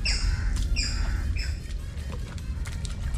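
Birds give repeated harsh squawking calls in a mangrove creek, three loud calls in quick succession followed by scattered chirps over a low, steady background rumble.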